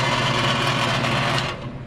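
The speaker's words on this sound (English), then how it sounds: "I saw this stuff on my bandsaw here." A bandsaw in a home workshop cuts material with a loud, steady whirring buzz that stays close and even, then eases slightly near the end. No voices.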